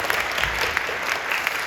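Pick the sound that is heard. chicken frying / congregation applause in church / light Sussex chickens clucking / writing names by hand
congregation applause in church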